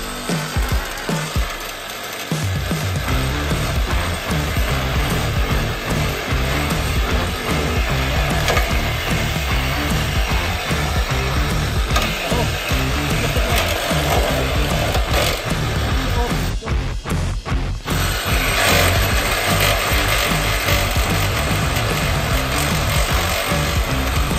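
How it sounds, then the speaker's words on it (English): A ripsaw grinds steadily through the front end of a Chevrolet Cavalier in a workshop, a loud, continuous mechanical rasp with a brief pause partway through. "Still sawing on what you got there, Dan? Ripsaw?"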